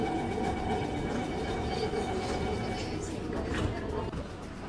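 Steady rumble of a moving train in Singapore with continuous rail noise and faint rattling throughout, fairly close and even in loudness.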